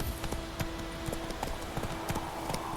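Roach the horse clip-clopping along in The Witcher 3, a steady rhythmic run of hoofbeats at a walking pace over a constant ambient bed, with faint speech underneath.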